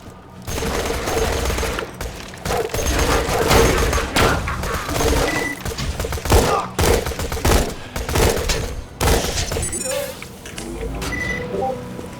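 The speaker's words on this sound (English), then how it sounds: "not so frivolous with a 4-round burst rifle with a 22-round mag" Rapid bursts from a 4-round burst rifle with a 22-round magazine in Borderlands 2, loud and repeated in clusters of cracking shots with booming thuds and game effects between them.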